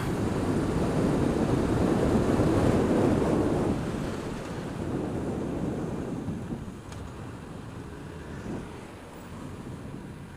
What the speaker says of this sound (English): That's how loud this wind is.